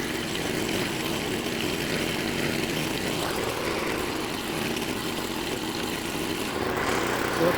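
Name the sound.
engine of a tiller working a pumpkin patch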